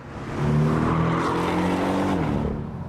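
Porsche 718 Boxster S engine revving with a deep bass tone, a loud steady drone holding close and continuous, pitch climbing slightly then settling over a few seconds.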